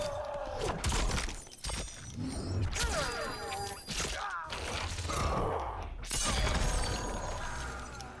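Fatal blow attack from the fighting game Mortal Kombat 11: a loud, busy burst of shattering impacts, thuds and strained grunts over game music, with a second heavy hit near the end.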